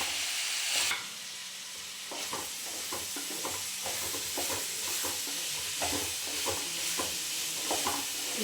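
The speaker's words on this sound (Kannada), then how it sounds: "ಚೆನ್ನಾಗಿ ಒಂಚೂರು ಕೈ ಆಡಿಸ್ಬಿಟ್ಟು ಚೆನ್ನಾಗಿ ಅವರೆಕಾಳು ಹಸಿ ವಾಸನೆ ಹೋಗೋವರೆಗೂ ಫ್ರೈ ಮಾಡ್ಕೊಳ್ಬೇಕು" Field beans (avarekalu) frying in a pan while being stirred, a constant close sizzle broken by repeated scraping strokes of a spoon at a fairly regular pace.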